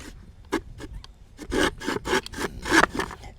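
A wooden spindle driven by a bow rubs against a wooden fire board in fast back-and-forth strokes, making rasping, sawing friction bursts that grow louder and more rapid toward the end, close up.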